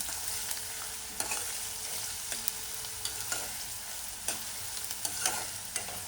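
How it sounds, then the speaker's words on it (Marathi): Chopped onion frying until brown in a pan for a snake gourd dish with dried fish: a steady, quiet sizzle with occasional light spatula scrapes and clicks against the pan. "कांदा आपल्याला थोडा ब्राऊन कलर वरती परतून घ्यायचा आहे।"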